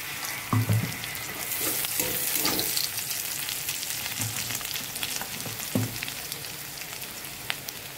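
Onions sizzle and crackle in hot mustard oil in a wok, a close, steady frying hiss with a few stirring knocks near the start.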